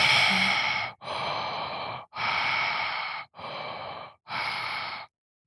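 A voice imitates Darth Vader's mechanical breathing, five loud, close, evenly spaced rasping breaths, alternating in and out, each about a second long.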